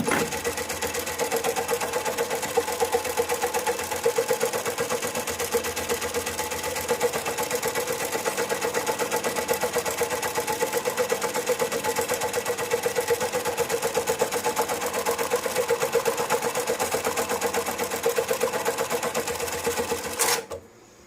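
A JACK JK-T1900BLX electronic tacker stitches about 1.5 inch webbing with a continuous rapid mechanical whir for some twenty seconds, close and steady, ending with a sharp clunk before quiet.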